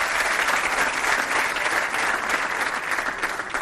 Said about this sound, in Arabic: التصفيقات ديال الجمهور.